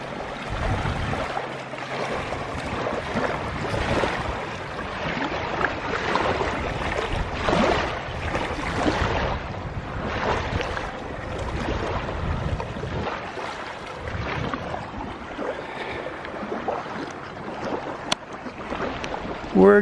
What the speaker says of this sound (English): Listen at these beautiful waves.